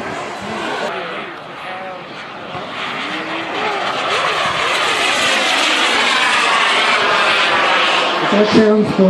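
A turbine-powered RC jet airplane, capable of nearing 200 mph, roars past at an air show demo with a loud, steady broadband jet whine that swells over several seconds, while an announcer talks over it.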